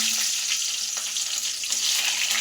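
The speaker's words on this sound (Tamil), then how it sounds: "கடுகு நல்லா பொரிஞ்சோடனே வெந்தயம் போட்டுக்கலாம் வெந்தயம் பொரிஞ்சிட்டோன்னே வெங்காயம் கருவேப்பிலை" Mustard seeds, fenugreek, onion and curry leaves fry in hot oil as the tempering for a South Indian fish curry, making a steady, loud, close sizzling hiss with small crackles throughout.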